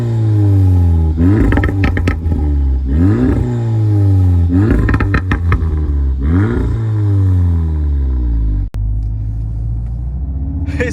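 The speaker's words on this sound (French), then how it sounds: "ce que je vous propose, c'est qu'on passe tout de suite au bruit à l'échappement" A Volkswagen Golf 7R with an aftermarket exhaust revs loud and close in several repeated sweeps: deep roars climb in pitch and then fall back, separated by short idling gaps, with no voices over them.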